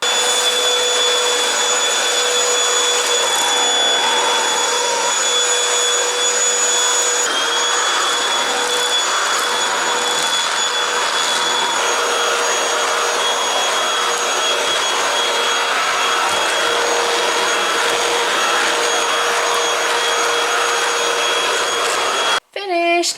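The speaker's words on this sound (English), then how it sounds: "I'm going to hoover now." A vacuum cleaner hoovers a house, running as a loud, steady drone from start to finish and cutting off abruptly near the end.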